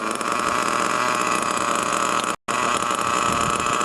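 A nitro-fuelled RC car engine ticks over in a steady, loud, buzzy idle that runs continuously, nearby and alone, broken only by one brief dropout near the end.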